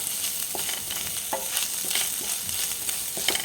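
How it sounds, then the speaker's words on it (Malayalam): Grated coconut and curry leaves roasting in a hot pan with crackling mustard seeds, a steady close sizzle broken by scattered sharp pops and stirring scrapes, with no voices. "ഇവിടെ തേങ്ങ ഇങ്ങനെ വറുത്തിട്ടിട്ട്"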